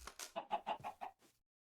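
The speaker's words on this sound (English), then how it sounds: "So, I just bred them together again, and we have got 4 chickens now." Several chickens clucking in a Minecraft-style video game, a quick run of about six short, mid-pitched clucks close together, then a faint final one and silence.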